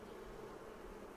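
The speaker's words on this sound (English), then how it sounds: "There's a drone bee." A drone honeybee buzzing at a Flow Hive during a hive split, a faint, continuous low hum of wingbeats with no talk over it.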